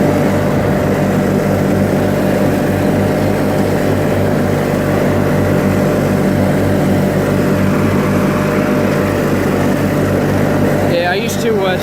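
A 1986 John Deere 318 lawn tractor mowing runs with a loud, steady engine drone and throbbing low hum, close and continuous throughout.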